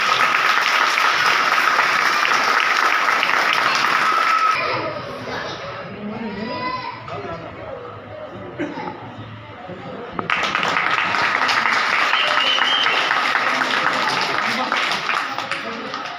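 A crowd at a temple felicitation ceremony, held by a Sai temple committee to honour a Gudi Padwa festival committee, claps loudly and steadily. The applause fades under a speaking voice and murmuring, then swells again into strong, sustained clapping.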